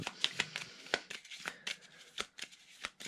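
A deck of game cards is shuffled close up, a string of quick, crisp riffling and slapping bursts in irregular rhythm, fairly quiet, with no talking.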